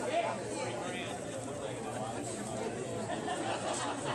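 Crowd chatter from an audience inside the Earle Theater at a 90th birthday celebration, a steady murmur of many voices at low level, with no single voice standing out.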